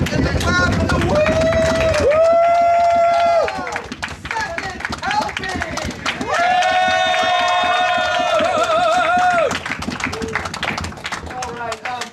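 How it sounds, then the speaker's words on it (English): An audience at an improv comedy class show in Oklahoma City stomps, claps and whoops loudly up close in two long bursts, with voices calling out between them. "Give us a shake and a foot and a clap and a woo!"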